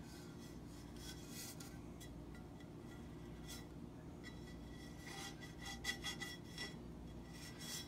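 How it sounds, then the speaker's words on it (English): Excess glue is scraped off a tumbler in faint, close, steady rasping and rubbing over a constant low hum, with a few sharper scrapes near the end. "Right now I'm just scraping any excess glue that might be up here"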